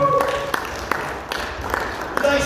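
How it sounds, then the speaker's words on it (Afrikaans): A church congregation claps for the Lord at a service, with scattered, uneven hand claps mixed into a murmuring crowd and a voice talking over them. "Geef die Here aan het klap"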